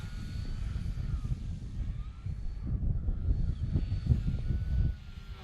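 Clipped-wing Cub airplane engine droning at low power as the plane hovers in the wind at an air show, a steady distant hum with gusty wind noise and a slightly louder swell toward the end.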